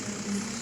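A JCB digger's engine idling in an Indian driving video game: a brief, steady mid-pitched rumble that holds at an even level.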